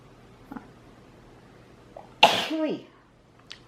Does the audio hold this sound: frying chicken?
no